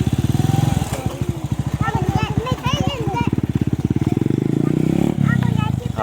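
A motorcycle engine throbs close by with a fast, steady low pulse on a dark road near a bridge with no streetlights. It swells and eases over several seconds while people talk over it.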